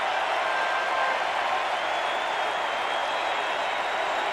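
A packed baseball stadium crowd at the 1991 World Series Game 7 between the Atlanta Braves and Minnesota Twins applauds Kirby Puckett, a broad, steady roar of clapping and cheering that holds loud and unbroken throughout.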